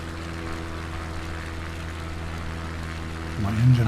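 A propeller airplane engine hums steadily in Microsoft Flight Simulator 2020 during a bush flight over Patagonia, a low droning tone under faint wind, with a brief louder swell near the end.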